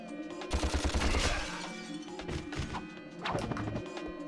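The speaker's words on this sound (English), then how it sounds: "it makes like a machine gun sound effect" Rapid bursts of blaster fire from Ratchet and Clank crackle in quick succession like a machine gun, three separate volleys with short gaps between them.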